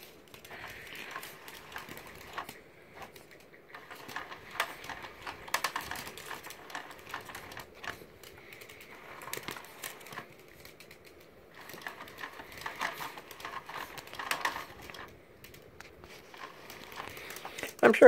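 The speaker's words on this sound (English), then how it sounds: "it just makes a god-awful clicking noise that gets obnoxious after a few minutes, but it won't ruin the toy" A toy mechanism makes a rapid, fairly quiet clicking and rattling in irregular bursts, with crinkly ticks stopping and starting through the stretch.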